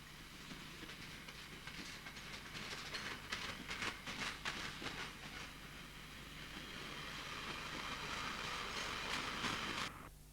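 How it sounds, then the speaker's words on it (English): A Class 66 diesel hauls a freight train of empty waste containers near Huddersfield, wagons rumbling and clattering past in a steady, sustained roar that builds slightly toward the end. "A Class 66 hauled train of empty waste containers from the Roxby landfill site, Scunthorpe,"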